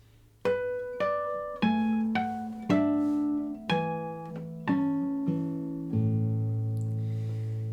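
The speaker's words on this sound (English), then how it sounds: "The second half of this phrase has more right hand harmonics," Guitar right-hand harmonics in a phrase of Brahms' Lullaby, about eight bell-like chiming notes plucked one after another at a slow, even pace, close and clear, with each note ringing on and the last one sustaining.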